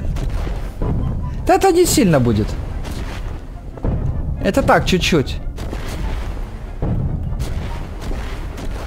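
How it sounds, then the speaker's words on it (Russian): Explosions go off in the air in the Garry's Mod video game as repeated deep booms with rumbling tails, spaced a few seconds apart, while people talk over them. "Взрывы в воздухе."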